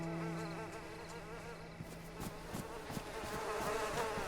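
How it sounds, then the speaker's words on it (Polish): Flies buzz around an abandoned house in the video game DayZ, a steady close drone with several overlapping insect whines and no talk. "Dlaczego mamy okazję zobaczyć, słyszeć jakieś muchy w okolicy?"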